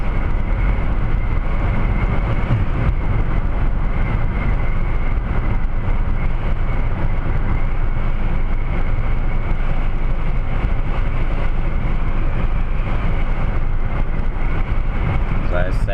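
Steady, loud road and tyre roar from inside a car cruising at about 70–80 mph on a wet road on a dull, rainy October day, with a voice talking over it throughout.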